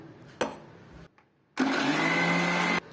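A kitchen blender grinds oil into homemade mayonnaise with a loud, steady whirring roar. A brief burst comes first, then a short pause, then a longer continuous run that cuts off abruptly.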